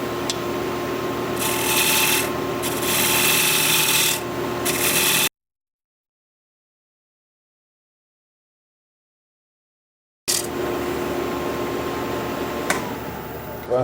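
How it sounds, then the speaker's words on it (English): A 1/2 inch bowl gouge cuts a square four-legged wooden bowl spinning on a lathe at about 1200 RPM, a steady close scraping rush with swells, broken by a stretch of total silence before resuming. "I'm going to be using my 1/2 inch bowl gouge to blend the sides of this bowl together."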